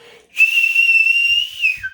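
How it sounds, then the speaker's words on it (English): A single loud, piercing whistle holds one steady high pitch for over a second, then drops briefly at the end. "how to whistle loud without using your fingers"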